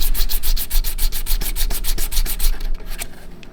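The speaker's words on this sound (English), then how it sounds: "we're going to take our silver piece right here, and we're going to run this on the sandpaper next" A silver jewelry piece rubbed back and forth on sandpaper in quick, even strokes, a steady rhythmic scratching close up that slows and fades near the end.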